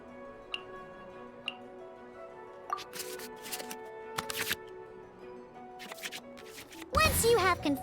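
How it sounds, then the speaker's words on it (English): Cards are shuffled back into the draw pile in the Genshin Impact card game, brief soft card clicks and rustles with a few ticks, ending in a brighter flurry of game effects. "we can select any number of cards in our hand to shuffle back into the draw pile"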